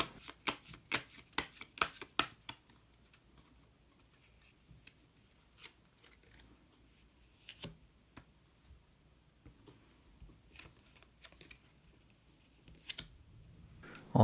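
Tarot cards shuffled and a card drawn during a reading, a quick burst of crisp riffling clicks at the start followed by scattered soft taps and slides of cards on a table, close and quiet, with no talking.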